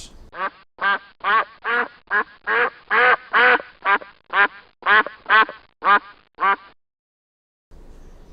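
A duck quacks about a dozen times in a quick, evenly spaced series of loud, close, nasal calls, then falls silent.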